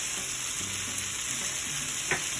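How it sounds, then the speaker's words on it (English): Onions and peppers frying in a pan for ropa vieja, a steady close sizzle and crackle that runs unbroken for the whole stretch, with a few faint clinks and no voices. "So once you get the onions and the peppers cooked and a little color, you're going to add garlic"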